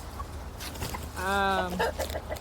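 A single chicken gives a short, nasal squawk up close amid faint rustling and low background noise.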